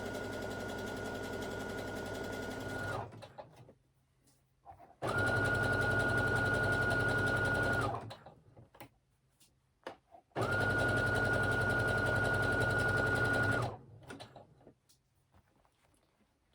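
Sewing machine stitching a leggings seam in three long bursts of steady motor whirr and needle chatter, close and loud, separated by quiet pauses with small handling clicks.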